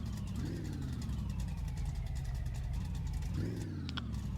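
A Dodge Charger engine runs steadily at close range, holding a constant idle with two brief revs rising and falling, low on gas but running.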